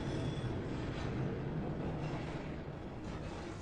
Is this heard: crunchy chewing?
no